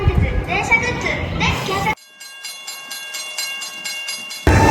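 A train at a Japanese railway station rolls with a steady, rhythmic clatter and electric hum, framed by brief bursts of nearby voices at the beginning and end.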